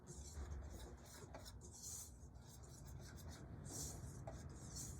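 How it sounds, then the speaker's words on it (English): A whisk scrapes and taps against a bowl while mixing dry salt and baking soda, a quiet rhythmic scratching in short strokes. "Just mix that with a whisk."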